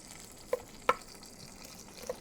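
Chicken browning in a pan, a quiet sizzle broken by a few sharp clinks or scrapes of a utensil against the pan, one near the middle and one toward the end.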